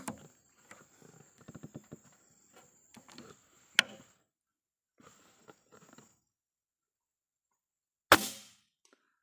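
BST 14MK2 air rifle shots at a target at a 100 m range: two sharp, loud, isolated cracks several seconds apart, with faint scattered rustling and handling noises in between.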